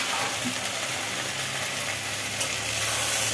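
Leafy greens frying in a pan, a steady moderately loud sizzle with faint stirring scrapes continuing without pause.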